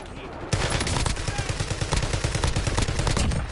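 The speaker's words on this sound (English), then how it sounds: "Top of prison sniping down here at us." Rapid gunfire crackles from a sniper on a prison rooftop during an online shooter video game, loud and continuous after a brief lead-in, with a fast repeating rhythm.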